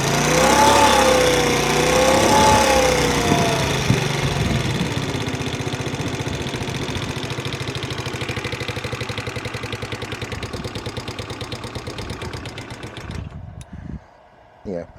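Cold Direct Bikes DB50QT-11 sport moped engine idling with an uneven tick-over, a steady close putter with rhythmic pulsing that grows choppier and stumbles near the end.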